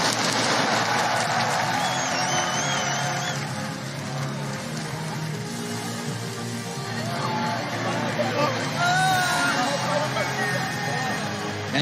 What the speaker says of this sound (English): the crowd's giving a standing ovation after that one